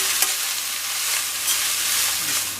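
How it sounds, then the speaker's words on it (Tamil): Coriander leaves sauté in hot oil with asafoetida in a pan, giving a close, continuous sizzle with soft scraping as they are stirred. "அதோடையே இந்த கொத்தமல்லி தழையை சேர்த்துக்கலாம். சேர்த்துட்டு இதை நல்லா வதக்கிடணும்."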